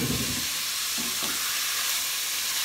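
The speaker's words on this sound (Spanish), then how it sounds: "aquí tengo la carne de res, que es 1 libra de res. La voy a pasar a freír" A pound of ground beef fries in a small pot, giving a loud, continuous sizzle and hiss with a few soft scraping stirs near the start.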